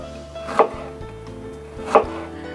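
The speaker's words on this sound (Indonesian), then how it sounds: "Semuanya saya rajang saja atau diiris tipis-tipis seperti ini." A knife slices through shallots and garlic on a board, two distinct crisp cuts spaced over a second apart against low kitchen background hum.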